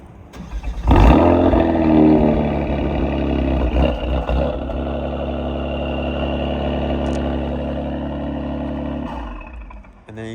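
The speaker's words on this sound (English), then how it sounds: "show you guys how the exhaust sounds like when I demonstrate the remote start" A 2023 Kia Stinger GT2 AWD fires up by remote start, the exhaust catching with a quick rising burst, then settling into a steady, deep idle rumble heard nearby and alone.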